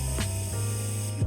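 An airbrush sprays paint away from a model of a frog on a rock, giving a steady, close hiss for about a second that stops abruptly.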